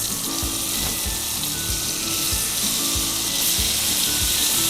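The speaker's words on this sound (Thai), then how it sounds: "พอมันเริ่มร้อนมาก ๆ แล้วเนี่ย เอากล้วยเอามาทอด" Bananas fry in a pan of hot butter and vegetable oil, a steady close sizzle and crackle running the whole time with soft scraping and stirring knocks underneath.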